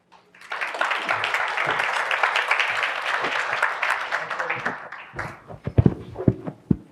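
An audience applauds at a fireside chat event as speakers come to the stage, a loud sustained burst of clapping that thins out into scattered claps and footsteps near the end.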